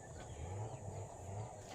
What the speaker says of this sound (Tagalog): kasunod na naman ang mga manok